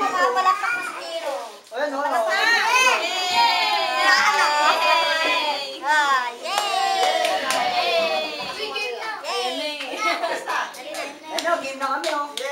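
Hands clapping in a steady rhythm at a child's first birthday party, under constant lively children's chatter and voices, close and busy.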